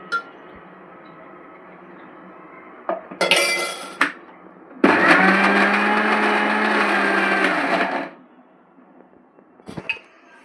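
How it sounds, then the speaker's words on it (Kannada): A kitchen mixer grinds jackfruit seed chutney with coriander in loud, steady bursts: a short whir, then a longer sustained grinding run of about three seconds. Faint clinks come before and after. "ಇದಕ್ಕೆ ಲಾಸ್ಟ್ ನಾನು ಇವಾಗ ಕೊತ್ತಂಬರಿ ಹಾಕಿ ರುಬ್ಕೋತೀನಿ."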